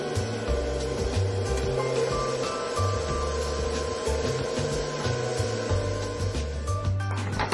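A kitchen mixing machine runs with a steady mechanical hum and rhythmic whirring while milk trickles into flour batter for homemade apple pie unleavened bread, continuous and close with light clinks near the end.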